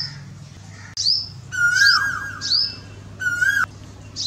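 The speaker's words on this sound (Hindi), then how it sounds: "हालांकि पेड़ पर बैठी कोयल उसे बार बार खतरे से आगाह करती है" An Asian koel gives rising whistled calls, several in a row, fairly clear and near, over a low steady background hum.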